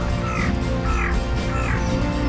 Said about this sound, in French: Oh, il y a un corbeau.